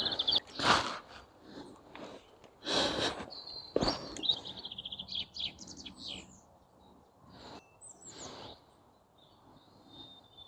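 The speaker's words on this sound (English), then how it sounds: "I hope you can hear the bird song. There's hundreds of little birds all making lots of noise." Hundreds of small birds chirp and twitter in bursts along a canal in springtime, bright high calls overlapping near and far with brief quieter gaps between.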